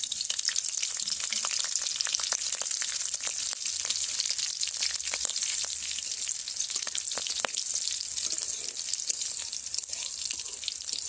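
Whole cumin seeds crackle and splutter in hot mustard oil, a dense steady sizzle with sharp popping ticks scattered throughout, loud and close with no talking.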